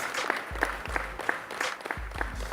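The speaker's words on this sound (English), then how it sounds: "They're still going. Can you stop clapping?" An audience at a holiday show keeps clapping in a fairly quiet, ongoing patter of separate claps that does not die down, with a low rumble beneath it and no talking.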